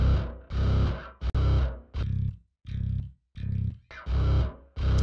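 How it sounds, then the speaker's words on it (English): Bass line from a remake of a song, heard as loud, distorted, processed notes in separate rhythmic phrases with short gaps between them and no voice over it. "Then I introduced this bass."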